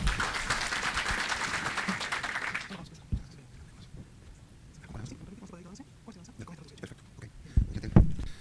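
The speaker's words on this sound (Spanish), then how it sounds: "Lo recibimos con un fuerte aplauso a él, por favor." Audience applause welcoming the Chilean ambassador at a business event on Chile–Peru trade opportunities, a dense clatter of many hands that stops abruptly, followed by quiet room noise and faint shuffling.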